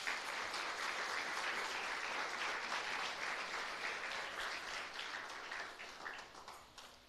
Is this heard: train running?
no